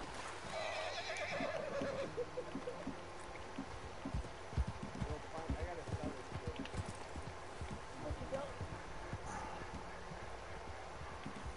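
Horse in the video game Red Dead Redemption 2 whinnies loudly near the start, then hooves clip-clop in a fast irregular rhythm through the rest, with game ambience underneath.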